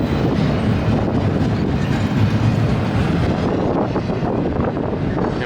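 A BNSF intermodal freight train rolls past on a curving track near Flagstaff, Arizona, giving a loud, continuous close rumble with rhythmic wheel clatter and some wind buffeting, no talking.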